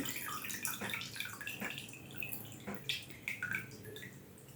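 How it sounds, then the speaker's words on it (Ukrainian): Water dripping and trickling from an orchid pot as it is lifted out of a soaking bath, a series of light irregular drips and splashes, fairly faint and close. "Я буду цю орхідейку витягувати з води."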